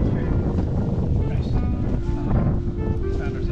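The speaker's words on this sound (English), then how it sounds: "We found ourselves in a wind tunnel. It is freezing cold right here." Strong, freezing wind blows outdoors in Amsterdam, a steady, loud buffeting roar that fills the whole stretch without letup.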